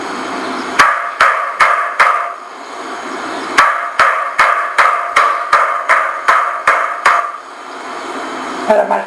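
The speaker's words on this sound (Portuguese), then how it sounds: "Era martelo, pregando." Hammer blows drive nails in sharp, evenly spaced strikes, first a short run, then a pause and a longer steady series of close, ringing whacks, each cutting off quickly.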